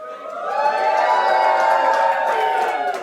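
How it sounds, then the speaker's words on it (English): A large arena crowd at a Valorant esports grand final roars and whoops in one sustained burst of cheering, with many voices shouting together, loud and close. "Can I get a cheer if you think Space Mode is going to take it home here in the grand final?"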